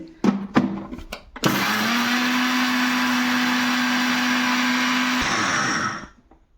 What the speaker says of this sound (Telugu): ఇప్పుడు ఇవి మిక్సీకి వేసి మెత్తగా మిక్సీ పట్టుకోవాలండి